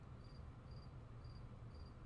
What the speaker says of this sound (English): There are crickets in the ceiling,